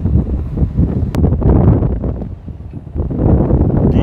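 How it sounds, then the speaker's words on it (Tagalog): Strong wind blowing outdoors by a jetty, buffeting the microphone in loud low rumbling gusts that rise and ease over a few seconds. "medyo mahangin, sumusog ang hangin."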